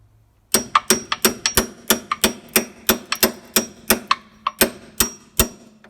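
A hammer strikes metal on a car's front suspension repeatedly, about fifteen sharp ringing blows in a fairly steady rhythm, close and loud with short metallic decays.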